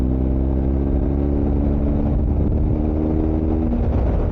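BMW R1250 GS motorcycle engine pulling steadily as it accelerates into a curve on a road ride, a continuous loud mid-pitched drone with a slowly rising tone throughout.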